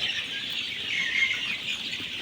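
Many Egyptian Fayoumi chicken chicks on a farm in Cumilla cheep together in a dense, steady high-pitched chorus, close and continuous with no talking.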